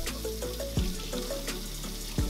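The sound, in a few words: tap water rinsing tofu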